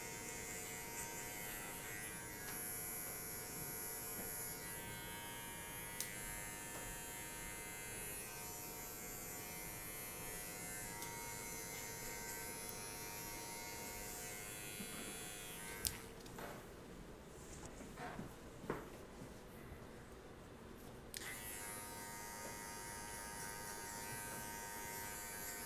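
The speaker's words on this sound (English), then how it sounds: "So the same clipper, lever open." An electric hair clipper hums steadily and close up during a fade haircut, a continuous buzz with rich harmonics that drops out briefly near the end before resuming.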